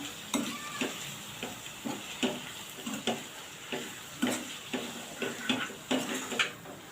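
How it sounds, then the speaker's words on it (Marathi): Onions and ground spices sizzle softly in a pan while a spoon scrapes and stirs in a steady rhythm, clicking against the metal about once or twice a second. No one speaks. "आता आपण हे चांगलं मिक्स करून घेऊया"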